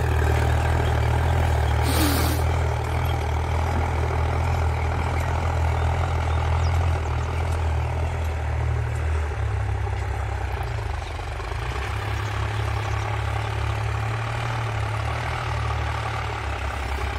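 A Sonalika MM45 diesel tractor hauls a cultivator under heavy load, its engine droning low and steady close by, with no voices.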